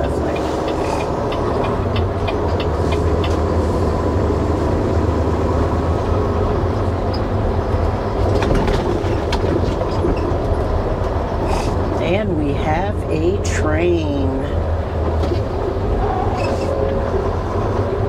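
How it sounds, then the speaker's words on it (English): A train rumbles past with a low steady roar and clatter, heard from nearby over road noise, with a voice speaking briefly partway through. "Train."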